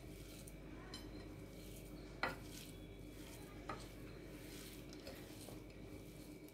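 Utensil scraping and stirring through carrot chutney mixed with turmeric in a bowl, a steady close scratchy texture with a few sharper knocks, no voices.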